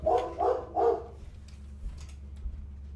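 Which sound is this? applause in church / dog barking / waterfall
dog barking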